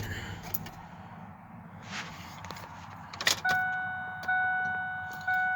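A 1998 Ford F150 XLT 4.2 pickup engine cranks briefly and catches, settling into a steady running drone with a thin high whine that steps up louder a couple of times.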